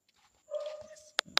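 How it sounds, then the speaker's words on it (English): Dogs in a Haitian neighborhood bark and whimper, one drawn-out yelp followed by two sharp, loud barks close by, with quiet gaps in between. "There are a lot of dogs in the neighborhood."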